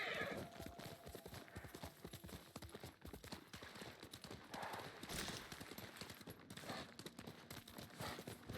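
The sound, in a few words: horse clip-clop and neigh in Ghost of Tsushima video game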